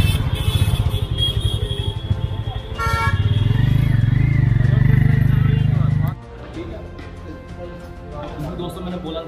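A motorcycle engine rumbles up close, revving louder and holding a deep throaty note before dropping back to idle, with talking over it.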